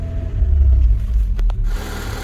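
A Rover 820 car engine runs close by with a loud low rumble, holding steady with a brief dip, then settling back to a steady run.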